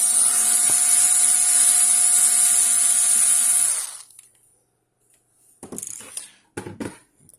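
A power screwdriver unscrews the metal case of a Hikvision DVR with a loud, steady high whine that spins down after a few seconds, followed by a few light clicks and rattles. No one speaks.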